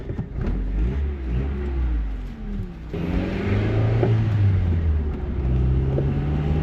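A 1989 Honda Prelude's engine and exhaust drone steadily while driving, with pitch shifting as the revs rise and fall through gear changes, loud and close with some wind rush.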